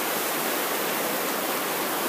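A river's running water rushes steadily in a quiet outdoor spot, a dense, continuous hiss of flowing current close by with no voices.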